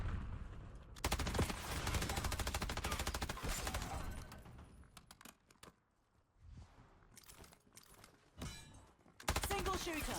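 A PML machine gun fitted with a fast mag rattles through long rapid-fire bursts in Black Ops 6, loud and close, with short pauses between strings of shots and a few scattered single cracks.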